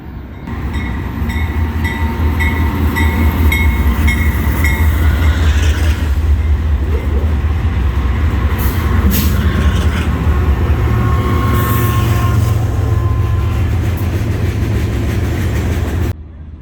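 A BNSF train rolls past on the rails near the Mississippi, a steady close rumble with squealing and rattling wheels sustained for about fifteen seconds before cutting off.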